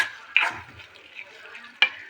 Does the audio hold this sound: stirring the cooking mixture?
yes